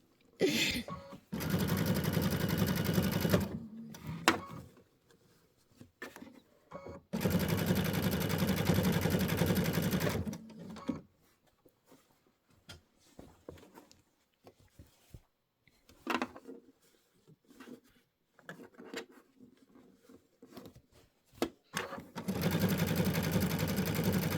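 An Avenir sewing machine stitches bat embellishments in long, steady whirring runs broken by pauses, with short bursts and a few quiet handling noises in between.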